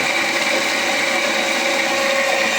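A metal-cutting band saw runs with a steady, loud mechanical whine and hum that stays constant throughout, with no speech.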